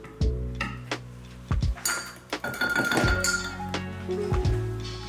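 A palette knife clinking and scraping against a palette while working thick acrylic paint, with several sharp knocks and metallic taps spread irregularly across the moment, fairly close and with no talking.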